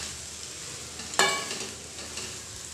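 Chopped pui (Malabar spinach) and pumpkin leaves are stirred as they fry in a pan, with a quiet steady sizzle and one sharp scraping clatter partway through.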